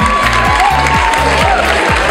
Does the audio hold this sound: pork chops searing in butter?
no